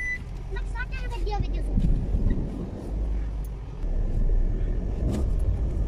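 A car pulling out of a parking area on a bright sunny day, its low engine rumble steady from inside the cabin while people chat over it.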